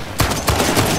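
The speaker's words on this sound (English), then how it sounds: "Open fire!" A brief, loud flurry of gunfire from Uncharted: The Lost Legacy: three or four quick, punchy shots in a tight, rapid rhythm, close and dominant.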